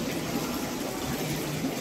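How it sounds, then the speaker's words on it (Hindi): Water pours steadily into a freshly harvested biofloc fish tank being refilled at a fish farm, a close, continuous rushing splash with no break and no talk over it. "ये देखिए यहाँ पे गिर रहा है पानी"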